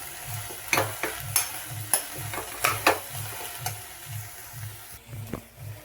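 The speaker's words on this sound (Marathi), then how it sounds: "मी स्प्राउट्स टाकले आहे. याला पण छान असं मिक्स करून घेऊया." A spoon scrapes and stirs sprouts into protein rice in a pan, making a steady rhythmic series of close scraping strokes over a low background hum, with no talking.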